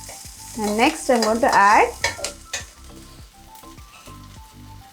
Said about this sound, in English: So I'm sauteing it.